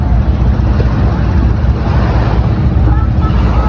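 A passenger boat engine drones steadily over splashing water and wind buffeting the microphone, with faint voices in the background, on the crossing from Malapascua to Maya Port.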